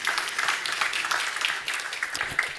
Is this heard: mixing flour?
no